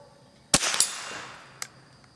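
A single sharp crack from a Marlin model 60 rifle, a refurbished pawn shop gun used for squirrel and rabbit hunting, close and loud with a short ringing tail, then a fainter click.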